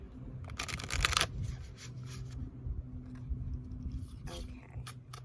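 Oracle cards are shuffled close by in quick riffling bursts with soft rubbing and shuffling sounds between them.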